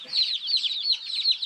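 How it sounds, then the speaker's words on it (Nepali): A chicken chick in a Taplejung village peeps in quick, shrill, repeated calls, steady and close, with no other sound around it. "यो चाहिँ कुखुराको चल्ला हो कि"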